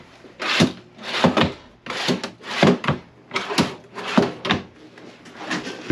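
Drawers in a 2008 Forest River Cardinal 30RKLE fifth-wheel RV slide open and shut repeatedly, a series of close wooden rumbles and soft thuds in a steady rhythm.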